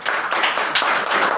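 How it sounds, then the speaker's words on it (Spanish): Church congregation clapping together during a worship service, a dense burst of many hands applauding, loud and close, with uneven swells and no speech over it. "Dense un aplauso."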